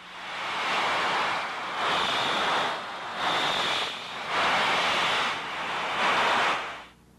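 A steady hissing rush of air leaking from a gas cylinder, heard through an ultrasonic detector, swells and fades in several pulses, broadband and airy, with no voices.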